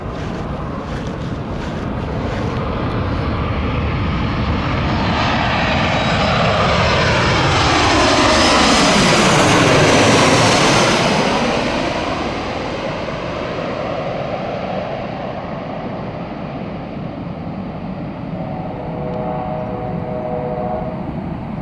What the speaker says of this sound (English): I think I hear another plane coming.